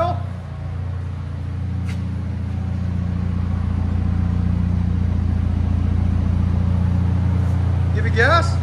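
A 2019 Volvo S60 T6 with a 2.0L turbo engine and muffler delete idles with a steady, loud, close low rumble throughout, with a faint blip near the end.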